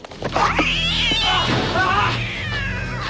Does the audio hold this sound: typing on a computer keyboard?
no